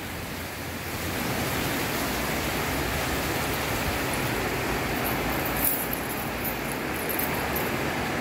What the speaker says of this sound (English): it's absolutely tipping it down